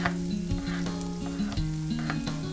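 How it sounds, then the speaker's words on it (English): Onions hitting a hot pan of garlic for a bean stew, crackling in a dense, continuous sizzle up close, with light stirring clicks and a sustained musical tone running through the brief stretch. "Next thing, let's put in the onions."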